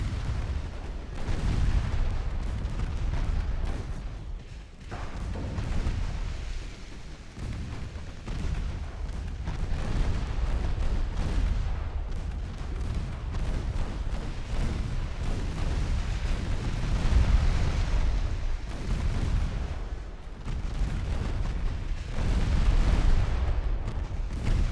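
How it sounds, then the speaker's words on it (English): Torpedo detonations in the naval game Ultimate Admiral Dreadnoughts, a continuous rumble of heavy booms and blasts rolling over one another, loud and dense throughout with no pauses. "More torpedo detonations"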